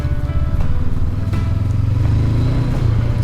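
Stock 2019 Honda CB500X motorcycle ridden off road in Oregon, its engine droning loud and close with a steady throbbing rumble and slight shifts in pitch.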